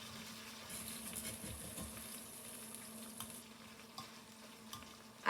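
A spoon stirs roasted tomatoes, olive oil and cheese together in a pan, producing faint, wet sloshing and soft scraping with a few light knocks against the cookware.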